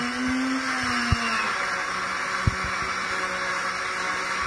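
A blender whirs steadily as it grinds herbal plants into a pulp, its motor pitch dipping slightly, with a couple of sharp knocks as the contents are pushed down and churned.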